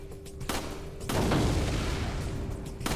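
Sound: explosion and gunshots from video game Resident Evil 4

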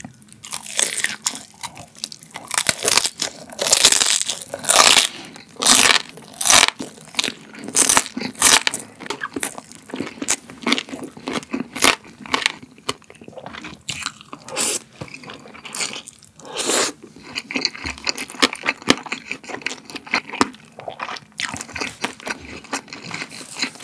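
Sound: biting crispy pork belly skin

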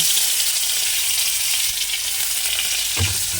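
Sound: garlic cloves frying in oil with five-spice tempering

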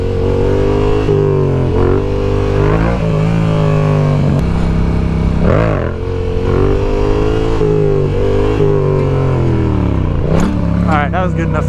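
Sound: R7 motorcycle engine revving during wheelies

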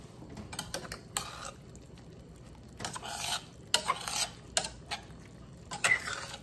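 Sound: stirring a slurry into a moo goo gai pan stir fry

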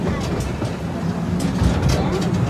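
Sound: amusement park train ride speeding up

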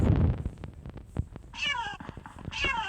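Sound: cat meowing in Minecraft video game

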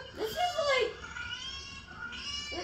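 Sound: cat meowing in Fortnite NextBots video game

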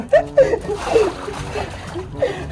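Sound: water splashing while rinsing a bird under a tap

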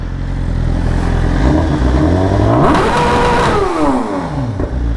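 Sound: sport motorcycle exhaust revving while parked

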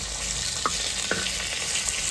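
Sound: frying and stirring in pan

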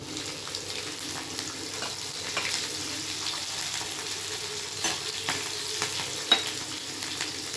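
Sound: garlic and green chili frying in pan

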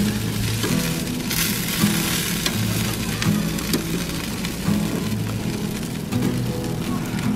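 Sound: smoked chicken thighs sizzling on the cooker

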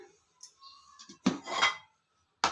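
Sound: bowl being taken out and handled

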